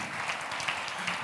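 Audience at a charity event applauds with a dense, even wash of many hands clapping at once, brief and moderately loud.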